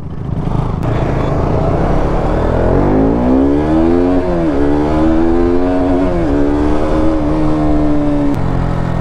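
Sport motorcycles, Yamaha R15 V3s against a KTM RC200, in a drag race, engines revving and pulling hard with rising then steady harmonic whine, loud and continuous throughout with no talk.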